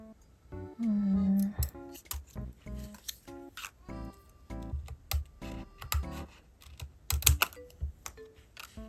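Scissors snip around the shapes of paper stickers for diary decorating, a close, quiet series of crisp irregular cuts and rustles, with one brief faint hum near the start.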